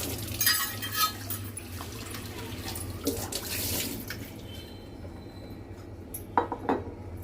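A new cast iron appe pan is washed at a sink: running water, with clinks and scrapes of metal against dishes scattered across the clip, close and fairly quiet. A few sharper knocks come near the end. No one speaks.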